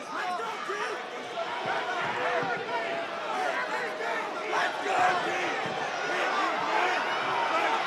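A restless, impatient fight-arena crowd roars and shouts continuously, with overlapping voices and calls at a steady, moderately distant level.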